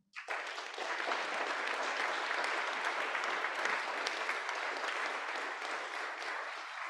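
Applause at a bar association House of Delegates meeting, a sustained burst of many hands clapping that starts abruptly and holds steady for several seconds in a large room, with no voices.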